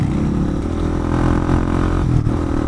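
A single-cylinder Honda CB300R with an Akrapovic carbon slip-on exhaust runs close by with a loud, steady, grumbly thump that holds nearly constant throughout.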